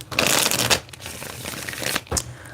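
Tarot cards are shuffled close up in several rapid riffling bursts with brief pauses between them, crisp and papery, with no talking.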